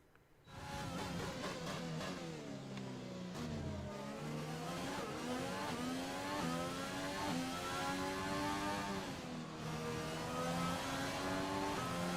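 F1 race car engine in the F1 2020 video game on a flying lap around Monaco, screaming at high revs with rising and falling pitch through gear changes, loud and continuous with no talk.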